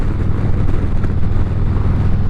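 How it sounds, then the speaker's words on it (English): A Harley-Davidson bagger motorcycle rumbles with a deep, steady low exhaust drone while riding, mixed with continuous wind and road noise, loud and close without pause. "That exhaust note is music to my ears."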